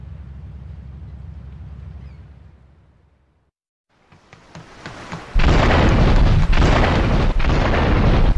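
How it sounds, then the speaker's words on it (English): An explosion in the Grand Theft Auto III Definitive Edition video game around Portland Harbor: a low rumble fades to silence, then a sudden loud, broad blast roars and stays sustained and harsh to the end. "investigate reports of gunfire and explosions"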